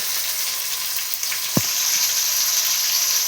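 Steady oil sizzle from chopped onions, tomatoes, green chillies and curry leaves frying in a pan for upma, a constant hiss close up with one brief stir or clink partway through.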